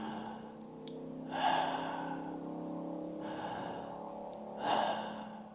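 A person demonstrates a way of breathing during a talk on conscious breathing: two sharp, audible breaths, like gasping inhales, about three seconds apart, close and fairly loud over a steady low hum.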